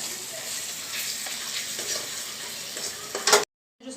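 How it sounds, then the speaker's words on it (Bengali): Garlic frying in oil in a pan, a close, steady sizzle with a sharper burst of crackling near the end before the sound cuts out briefly. "রসুনটা ভেজে নেবো।"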